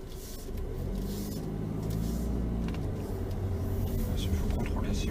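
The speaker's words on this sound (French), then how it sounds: "on va se garer en marche arrière, oui, à côté du véhicule rouge Bordeaux" A car being reversed into a parking space next to a burgundy-red vehicle during a driving-test drive, heard from inside as a steady low engine rumble that holds throughout while people talk over it.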